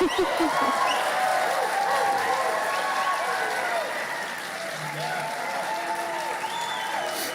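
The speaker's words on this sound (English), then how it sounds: "Now you may applaud" Audience applause at a congressional and governor debate in the Pikes Peak Center, a steady, dense wash of clapping that holds for the whole stretch with a faint murmur of voices mixed in.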